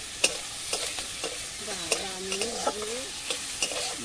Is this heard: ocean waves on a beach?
no